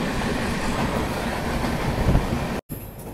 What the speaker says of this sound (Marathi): आपली ट्रेन जी आहे राजमुंद्री रेल्वे स्टेशनहून हळूहळू पुढे जात आहे